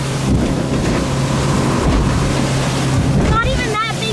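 A motorboat runs steadily across choppy ocean water dotted with whitecaps, its engine drone constant under strong wind buffeting and wave wash, with a brief higher whine near the end.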